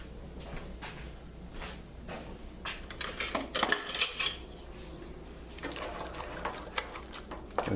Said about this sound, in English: and mix that up well